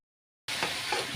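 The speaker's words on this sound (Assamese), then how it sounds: "এয়া মাছৰ পেটু গ'ল কেৰাহীত" Fish belly dropped into hot oil in a wok sets off a sudden loud, close sizzle that starts abruptly after a moment of silence and keeps hissing steadily.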